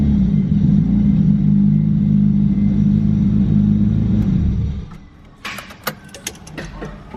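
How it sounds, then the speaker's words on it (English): A Nissan S13 sports car engine drones loudly and steadily for several seconds, then cuts out, leaving a few sharp clicks and rattles nearby. "I just love how this car sounds."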